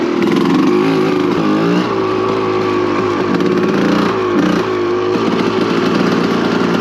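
A 1990 Suzuki RMX 250 two-stroke dirt bike engine drones loud and close while riding, its pitch wavering with throttle changes and a brief dip before picking up again.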